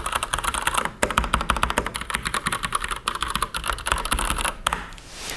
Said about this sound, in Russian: механические клавиатуры достаточно громкие, но на этой я играл даже ночью, и все равно она не создает много шума